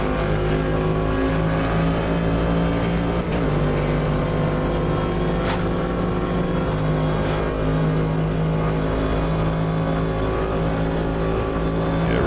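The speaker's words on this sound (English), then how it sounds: "The car sounds great too. I don't know if you guys can hear that." Cadillac DPi prototype race car in the Automobilista 2 racing game, its engine droning loud and steady at high revs with brief gear-shift dips, continuous throughout and alone without talk.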